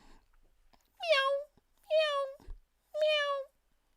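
A voice mimics a cat, giving three drawn-out, nasal meows with clear pauses between them, close and distinct in an otherwise quiet room.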